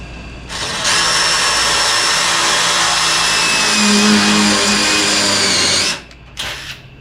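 A power drill whines steadily for about five seconds, driving self-tapping drill bits through rusty floor pan metal on a 1957 Chevy wagon, loud and close, with a brief second burst at the end.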